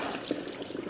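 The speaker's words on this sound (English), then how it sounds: "I'm going to toss these right here in this cold water" Raw potatoes tossed into a bowl of cold water in a home kitchen make a quick close splash, followed by a brief sloshing, trickling wash of water.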